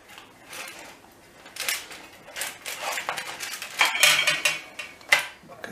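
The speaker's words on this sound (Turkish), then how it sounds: "Şu şekilde fırın ızgarasını tellerini elimizle açtırıyoruz." Metal wires of an oven grill rack pulled apart by hand: a series of light metallic clinks, rattles and scrapes, some sharp ringing taps, close and fairly quiet with no talking.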